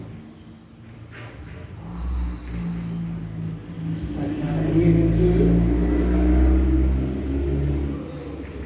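Cars rev and rumble on a street outside a power yoga class, a low engine roar that swells and fades over several seconds while an instructor speaks over it.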